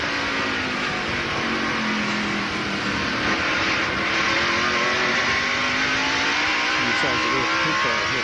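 Stock car engines at the 1997 Hanes 500, a loud, continuous high-pitched roar with pitch swells and falls as cars rush through a corner, several engines layered over each other throughout.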